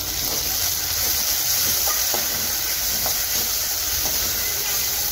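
Soy sauce sizzling in a hot pan with fried soya chunks, a loud, continuous steamy hiss that holds steady throughout with faint stirring clicks beneath it.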